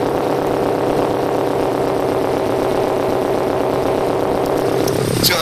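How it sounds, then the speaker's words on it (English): A modified 1998 Subaru WRX idles close by, its exhaust giving a steady, loud, throbbing drone that holds unchanged throughout. "demonstrate the sound of this particular car with the exhaust system"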